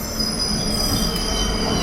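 A city train passes close by, a steady loud rumble of rolling stock topped by a sustained high metallic squeal from the wheels on the rails.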